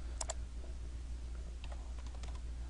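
Typing on a computer keyboard during a lecture, a short burst of quick clicking keystrokes over a steady low hum, no talk.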